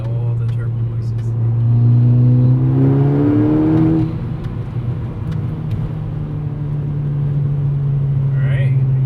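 Modified VW MK6 Golf R revving up through a gear, engine pitch climbing and settling into a steady cabin drone, with faint turbo whistles and hisses near the end.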